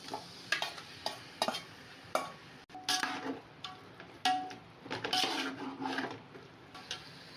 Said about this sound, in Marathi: आता याच्यामध्ये मी हे काजू टाकत आहे आणि हे मॅरिनेट केलेल्या सर्व भाज्या मी टाकत आहे।